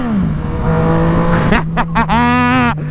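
A Yamaha MT-09 motorcycle engine drones at high speed, then revs in several sharp, rising bursts that end in a long climbing howl, loud and close.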